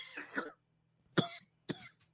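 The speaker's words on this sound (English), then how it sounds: "Oh, you got the cough." Three short, dry coughs from a person, one muffled burst followed after a pause by two sharper ones, close and fairly quiet with silence between them.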